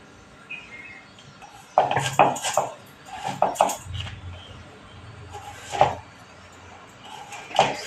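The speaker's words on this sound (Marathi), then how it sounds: "मी सोलून काप काढून घेते." A knife peels and slices elephant foot yam (suran) in a home kitchen, giving scattered scraping and sharp cutting taps with a few clinks, irregular bursts of close sound between quiet pauses.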